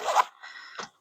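A zip on a tactical backpack being undone, a close, brief rasping pull followed by a softer drag and a final short tug, alone with no talk.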